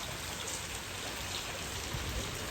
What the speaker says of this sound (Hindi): कैसी ज़बरदस्त किस्म की बारिश हो रही है